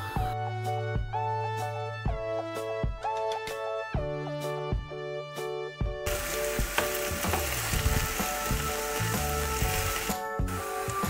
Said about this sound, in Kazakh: енді біз қызып тұрған майға пиязымыз бен капустамызды қуырып аламыз